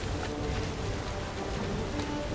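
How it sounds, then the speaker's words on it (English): Rain falls steadily in the video game Guardians of the Galaxy on PS5, a dense, even hiss of drops with no voices. "Here I am, all wet in the rain, and Sunny Pants ain't even trying to go the"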